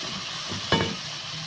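Potatoes dropped into a simmering kofta curry gravy, a soft sizzle and bubbling with one brief splashy clatter midway, close and fairly quiet, no talking.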